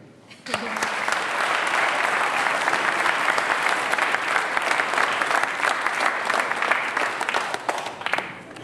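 An audience bursts into loud, dense applause that starts abruptly and keeps up at an even level for several seconds, tapering slightly at the close.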